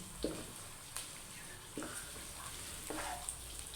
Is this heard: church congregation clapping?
no